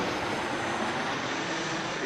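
An Air Canada airliner at Pittsburgh International Airport gives off a steady, broad engine roar that holds constant throughout, moderately loud and somewhat distant.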